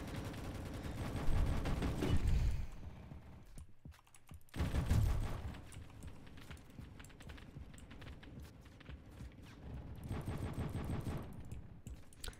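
Gunfire in the Roblox video game comes as rapid bursts of game shots, mixed with low booming swells and clicking keys, at moderate volume throughout.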